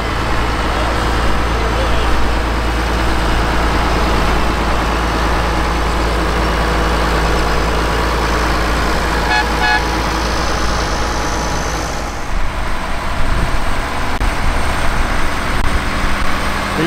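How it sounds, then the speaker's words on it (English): A four-wheel-drive International Harvester 1066 tractor rolls past in a parade, its diesel engine giving a steady, loud low rumble with a brief dip in level near the end, surrounded by outdoor crowd noise. "Here's a model 1066 with four wheel drive."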